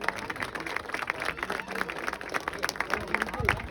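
Applause for a football club president at an anniversary event, scattered claps from a small crowd at moderate distance, fairly faint with some murmuring.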